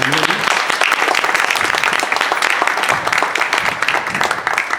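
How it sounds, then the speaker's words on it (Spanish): Audience applause at a tribute concert for a singer's 80th birthday, a dense, steady wash of clapping from a crowd lasting throughout, with faint voices mixed in. "les pido un aplauso también para"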